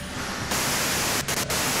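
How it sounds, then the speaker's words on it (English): White noise static from the video game Disco Elysium, a steady loud hiss that holds throughout, with a brief change in texture early on and two short dropouts near the end. "you can do it through the white noise."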